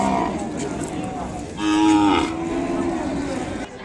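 An Ongole bull calf at a cattle market gives a single loud, drawn-out moo lasting about a second, close to the microphone, over a low background murmur of the market.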